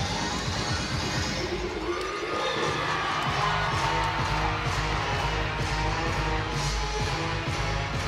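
Gymnastics crowd cheering inside Bud Walton Arena, a steady roar of many voices with whoops rising and falling, loud and sustained under a commentator's talk.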